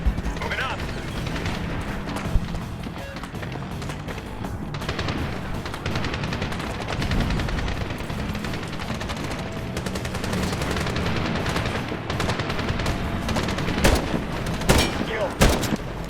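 Sustained machine gun fire rattles through a Medal of Honor battle, dense bursts from a balcony gun position mixed with other gunfire and loud booming impacts, continuous and close, with a few sharp cracks near the end and a battlefield din underneath.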